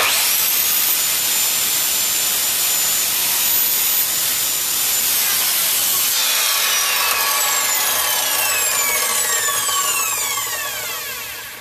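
Hand sawing through trophy material clamped over a piece of cardboard, a steady continuous rasping cut that runs loud and close for the whole stretch, its tone brightening partway through before it eases off at the end.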